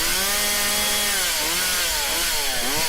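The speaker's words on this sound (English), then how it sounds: "Chainsaw." A loud, close chainsaw sound effect buzzes continuously, its pitch swooping up and down as it revs, with no voices.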